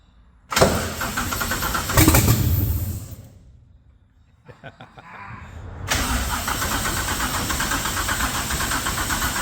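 Engine cranking and firing up for the first time after a Nissan Godzilla engine swap in a home garage: a burst of starter and rough catch, a pause, stuttering cranks, then a steady loud idle running to the end.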